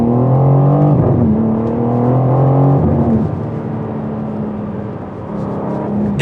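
A BMW M4 CSL pulls hard in second gear with the gearbox in manual, its engine note loud and close as the revs climb steadily, dip at a shift, then hold a sustained drone.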